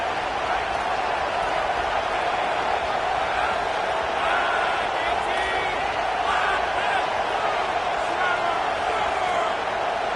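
Stadium crowd roaring at a Pitt vs UCLA college football game, a steady, dense wall of cheering noise that holds constant throughout, heard from within the stands.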